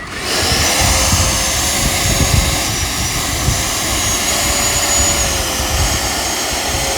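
An RC B2 bomber model's twin electric motors on Avian ESCs run in reverse-thrust braking, giving a loud, close, sustained whirring roar with a steady high whine that holds throughout.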